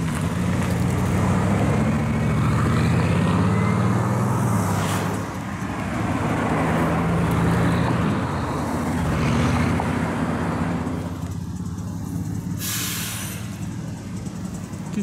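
Bugatti Super Sport driving along a road, a loud broadband engine and road roar that stays near and steady before easing, with other traffic passing along the roadside.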